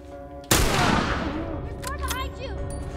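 A single sharp, loud gunshot from The Last of Us Part 2 cracks out and decays into a long echoing tail. Brief chirping tonal game sounds follow under a voice speaking.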